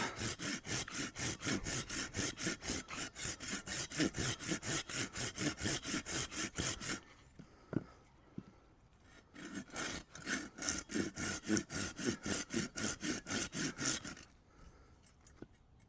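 Hand saw cutting through wood for a bushcraft hammer, fast rhythmic rasping strokes close by in two long bursts separated by a quiet pause with a few knocks.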